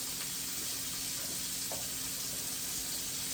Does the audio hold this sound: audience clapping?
no